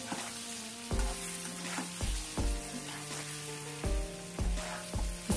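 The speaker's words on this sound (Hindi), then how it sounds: "तो अब ये मुठिया इसमें ऐड कर देंगे और अभी से करेंगे फ्राई" Lauki muthia, bottle gourd dumplings, frying in a little oil in a pan: a continuous close sizzle broken by regular sharp knocks and scrapes of stirring, with no talk.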